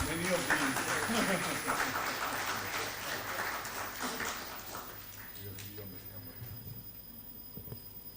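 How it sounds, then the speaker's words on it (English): Applause from a plenary audience at an international conference on regenerative ecosystems as mementos are presented, a broad steady clatter of many hands that thins and fades over the last few seconds, with voices murmuring beneath. "A big round of applause for this."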